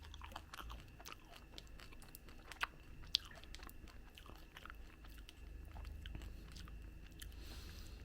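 A chocolate bar filled with baked kadaif and pistachio cream is bitten and chewed close up, with faint crisp crunches and soft, wet chewing in a quiet room.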